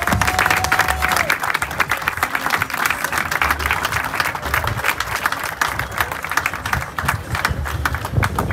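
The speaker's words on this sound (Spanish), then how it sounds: "a los cuales sí les pido un fuerte aplauso para todos y cada uno de ellos" Applause for guests at a political campaign launch event in Progreso, a steady outdoor crowd clapping throughout at even loudness, with voices and cheers mixed into the noise.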